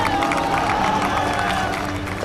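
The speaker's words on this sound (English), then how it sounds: "This massive roar and cheering just goes up, and people shouting." A large crowd roars and cheers at a rescue, loud and sustained, a dense wash of many voices shouting together with no pause throughout.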